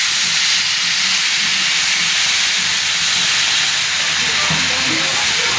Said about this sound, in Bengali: দেখো আমি মিনিমাম মাপে জলটা দিয়ে দিচ্ছি